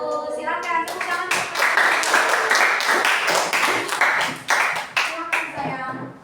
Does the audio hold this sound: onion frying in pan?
no